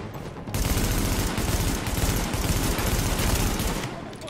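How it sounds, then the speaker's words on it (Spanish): Dense, sustained automatic fire from an M4 rifle in the video game The Division, loud and continuous for several seconds after a short quiet lead-in, with overlapping shots blurring into a steady roar. "aquí hay que disparar por ráfagas"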